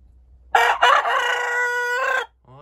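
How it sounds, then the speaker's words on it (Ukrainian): An old farmyard rooster on an autumn morning crows loudly and close by in one long, sustained cock-a-doodle-doo lasting well over a second, followed by a short clucking note. "Ну, старий півень співає."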